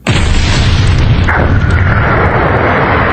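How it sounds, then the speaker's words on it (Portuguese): The TARDIS explodes as an audiobook sound effect, one massive booming blast that keeps roaring and rumbling at full loudness for several seconds without any speech. "A Tardes explodiu. E eu fui espalhado pela explosão."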